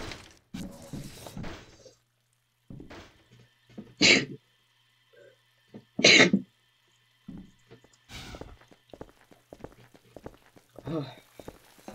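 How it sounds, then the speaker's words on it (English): Two sharp, loud sneezes burst out a couple of seconds apart, set among quieter shuffling noises and scattered speech while someone plays through a Half-Life 2 prison level. "Sorry for sneezing."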